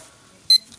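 A timer gives one short, sharp, high electronic beep, loud and close against an otherwise quiet background.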